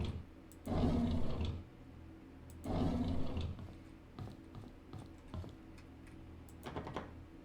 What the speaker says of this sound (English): Still sounds like lions to me.